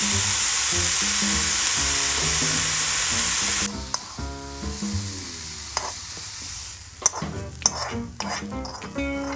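Beetroot stir-fries in a pan, starting with a loud dense sizzle that cuts off abruptly, then a quieter stretch of utensil clinks, scrapes and taps against the pan nearby.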